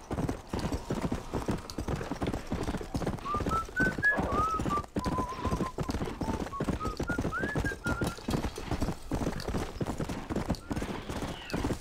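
A horse's hooves clip-clop in a fast, steady gallop rhythm throughout in Red Dead Redemption: Undead Nightmare, joined midway by a short whistled tune.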